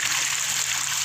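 Water splashes and gushes in a dense, continuous wash as a child plays with it, loud and close with no break.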